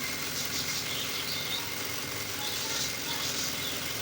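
A sewing machine stitches the hem of a salwar leg with a steady, continuous whirring hum at close range and no speech over it.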